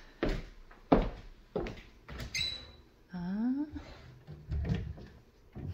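A cupboard door being opened indoors, giving a couple of short wooden knocks and a creaking squeal as it swings, with a person talking around it.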